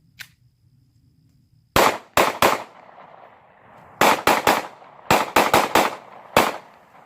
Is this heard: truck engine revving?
no